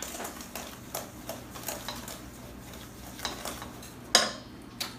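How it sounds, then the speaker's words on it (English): Spoon stirring baking powder into brownie batter in a bowl, a series of soft, evenly spaced clinks and scrapes against the bowl with one sharper knock near the end. "Stir that a little bit."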